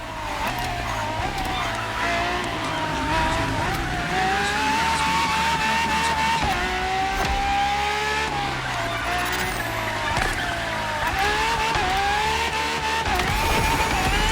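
A Ferrari FXX K, a track-honed LaFerrari-based supercar, races hard in The Crew Motorfest, its engine roaring and shifting pitch steadily through the whole stretch, with tire squeal and skids, under occasional background voice.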